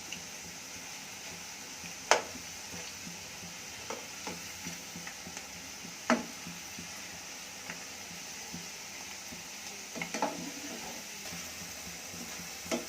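Cabbage pakodas frying in hot oil, a steady soft sizzle broken by occasional clinks and scrapes as the fritters are turned over in the pan.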